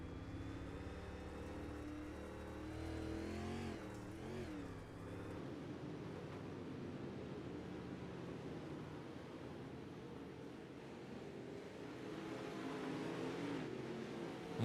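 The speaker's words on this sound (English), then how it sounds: "As these guys slow up these horsepower cars." Dirt late model race cars drone and whir at a distance as they ease off under a yellow flag, engines fading from a revving pass into a steady rumbling wash of noise.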